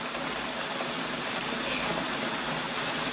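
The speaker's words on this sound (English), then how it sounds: "Right now, it's pouring rain." Heavy rain pours down in a steady, even hiss with no pauses, close and loud throughout.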